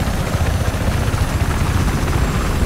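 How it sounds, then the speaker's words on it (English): A helicopter's rotor thumps in a loud, steady rhythmic chop, close and continuous, with no voices, in the video game Battlefield 4 on the Siege of Shanghai map. "Enemy helicopter has been spotted north of the curve position."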